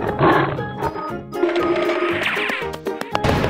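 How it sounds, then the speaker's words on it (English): A tiger roars in a cartoonish, animated setting, with growling bursts mixed among other sharp sound effects at close range. "Tiger."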